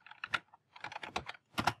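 Typing on a computer keyboard: quick, close bursts of key clicks in a few short clusters separated by brief pauses, with no talking.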